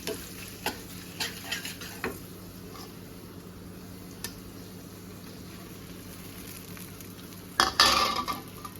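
Masala, chaat masala and sambar masala are stirred into idli pieces in a pan over low heat: soft steady sizzle with intermittent spoon taps and scrapes, then a louder burst of scraping near the end.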